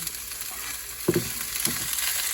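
Banana heart is stirred in a pan for ginataang puso ng saging, with a steady hiss of frying under two or three clear scraping stirs near the middle, close and moderate in level.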